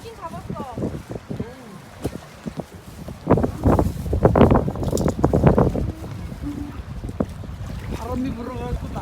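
Sea wind blowing along the Pohang coast, a steady broadband rush with gusts swelling louder midway, heard under continuous talk from several people nearby.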